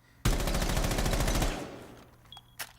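Buck's rifle firing a rapid, sustained burst of about a second and a quarter in Rainbow Six Siege, loud and close, followed by a brief fading tail and a few faint clicks.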